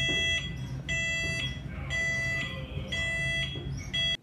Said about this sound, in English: the mandated audible alarm, since the door is being closed from a remote location.